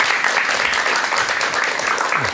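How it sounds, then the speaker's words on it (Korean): A lecture audience breaks into loud, sustained applause for a doctor about to give a talk on alcoholism, many hands clapping together in a dense, even roar without pause. "큰 박수와 함께"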